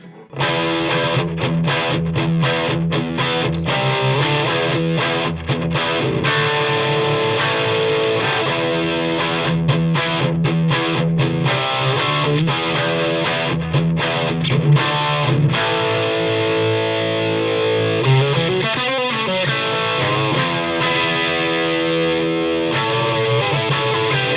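Overdriven electric guitar plays loud chords and riffs through a Marshall Origin 20 amp and cab with an overdrive pedal, a continuous gritty distorted tone with no talking.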